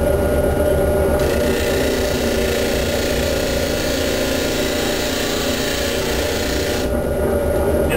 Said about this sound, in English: I've mounted a sanding drum into my drill press here, and I'll sand the rest of the curves out using that.